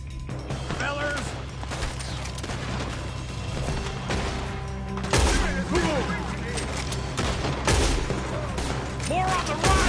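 Sustained video-game gunfire in a shootout on PS4, dense volleys and bursts rattling continuously with louder blasts later, while a voice talks over the shooting.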